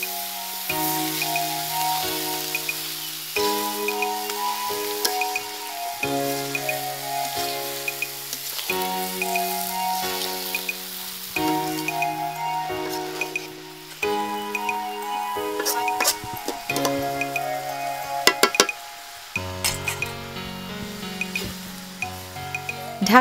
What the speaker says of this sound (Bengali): এবার নেড়েচেড়ে উল্টে পাল্টে কষানোর পালা।